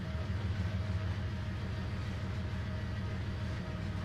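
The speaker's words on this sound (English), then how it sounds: "Those iron ore trains are cool." Long iron ore freight train rolling along the track in the Trainz simulator game, a steady low rumble with faint wheel clatter, continuous and fairly distant throughout, with no voices.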